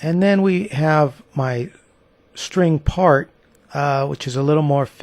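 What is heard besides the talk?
No distinct noise like a dog, phone or traffic.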